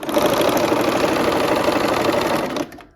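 A sewing machine stitches a quilt block seam for a barn quilt sampler, running steadily at close range in one continuous burst before stopping abruptly near the end.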